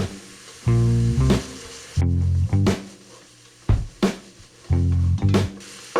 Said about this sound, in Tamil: இஞ்சி பூண்டு பேஸ்ட்டோட பச்சை வாசம் போகிற வரைக்கும் நல்லா வதக்கணும்.